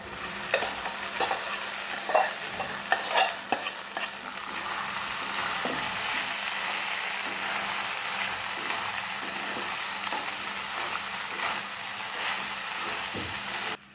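Sago pearls stirred into a pan with fried green chillies, giving a steady close sizzle with a continuous frying hiss, and a few louder scraping stirs near the start.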